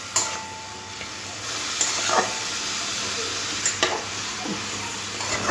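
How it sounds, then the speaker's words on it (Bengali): Radish greens fry in a pan with a constant close sizzle, broken by several scraping, clattering stirs from a spatula. "খুব সুন্দর করে শাকটাকে ভেজে নিতে হবে।"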